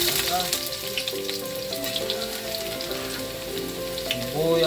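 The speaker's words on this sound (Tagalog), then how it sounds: "mainit na ng ating kawali na may matika. Yun ating sibuyas" Onion and garlic frying in hot oil in a pan, a constant close sizzle with crackles, with background music running underneath.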